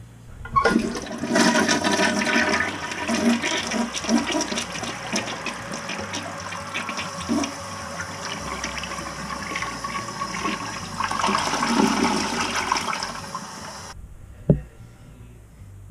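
A Kohler Wellington K4504 toilet fitted with genuine Kohler parts flushes with a loud, close rush of water, then refills with a steadier hiss and trickle that cuts off near the end, followed by a single knock.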